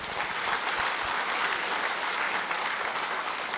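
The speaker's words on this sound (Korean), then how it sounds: "이 지구들을 위해서 여러분 큰 박수 한번 보내주십시오." Audience applause at a Korean seminar on club membership growth, a dense, even clapping that fills the room steadily from start to finish without any talk.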